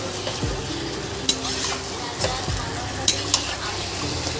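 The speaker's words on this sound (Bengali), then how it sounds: "চিকেনটাকে ভালো করে কিছুক্ষণ কষে নেব" Chicken pieces stir-fried for a Bengali chicken curry, a continuous sizzle in the pan broken by repeated scraping strokes and a few sharp spatula clanks against the metal.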